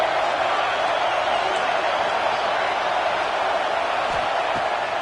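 A stadium crowd at a football game between UFL and Ole Miss keeps up a steady, dense roar of cheering that fills the whole span without letup.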